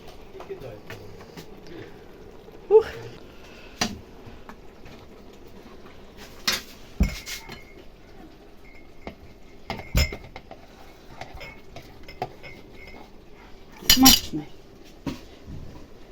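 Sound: filling glass jars with cabbage salad and screwing lids on

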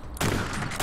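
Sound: shotgun firing in video game Space Beast Terror Fright

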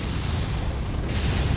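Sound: missile explosions in a video game

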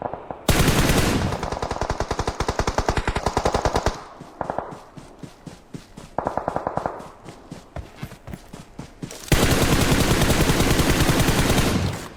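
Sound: gunfire in PUBG Mobile video game

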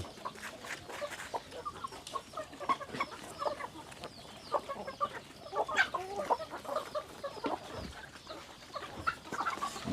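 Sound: chickens clucking at feeding time

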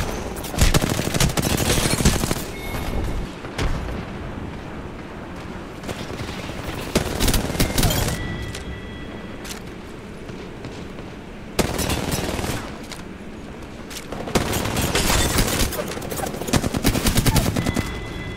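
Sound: gunfire from a shooting video game (Apex Legends)

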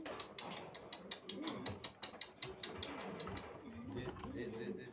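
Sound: male white fantail pigeon pecking

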